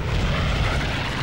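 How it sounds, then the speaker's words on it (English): A propeller airplane passing overhead in Call of Duty 2 during a World War II battle, a loud close rumbling engine drone with heavy low-end roar, steady and without talk. "Whoa, plane!"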